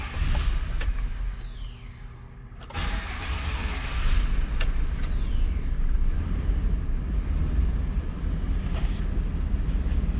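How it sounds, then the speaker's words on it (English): A 2013 Chevy van engine idles steadily, a continuous low rumble with a brief dip early on and a few sharp clicks and whirs over it, close by with no talk. "So the vehicle is actually running."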